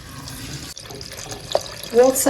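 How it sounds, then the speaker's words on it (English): Water pours steadily into a blender of millet close by, with a running, splashing rush that grows fuller toward the end. "Add water."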